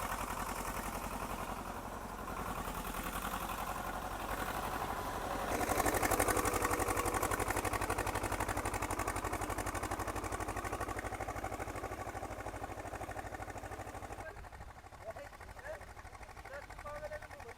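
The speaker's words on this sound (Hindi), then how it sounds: "ट्रैक्टर का बहुत ही सुंदर दृश्य है, बीज को अंदर डालते हुए कल्टीमीटर से" A tractor engine drones steadily at close range while sowing chickpea seed with a cultivator, its pitch rising briefly midway, with faint mechanical rattle from the cultivator.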